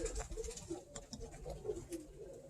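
Birmingham Roller pigeons, cock birds in a breeding loft, cooing in soft low repeated calls close by, with light rustling and a faint voice under them.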